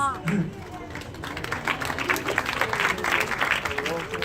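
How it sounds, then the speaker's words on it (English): Scattered clapping from an audience at a seal and sea lion show fills the moment, with crowd murmur and chatter mixed underneath. "Thanks everyone for the applause, the encouragement."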